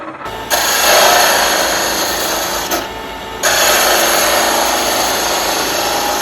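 Frog Blanks glued-and-pressed wood spinning on a lathe under traditional turning tools, a loud continuous rasping cut that breaks off briefly twice before resuming.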